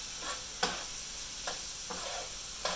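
Worcestershire sauce is stirred into Hamburger Helper in a pan, a soft sizzle under four or five scraping spoon strokes spaced about a second apart, with no voices.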